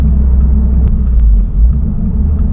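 A loud, steady low engine rumble from a 2026 Subaru WRX tS fills the clip, dipping and shifting in pitch as it seems to drop gears.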